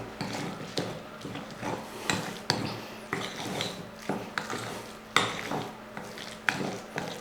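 A spoon clinks and scrapes against a bowl in quick, uneven strokes as beaten egg is stirred with powdered salt for an egg street-food snack, the taps fairly soft and close.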